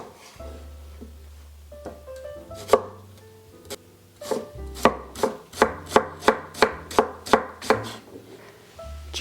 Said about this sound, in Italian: Bisogna tritare una cipolla, bianca, bionda, come volete.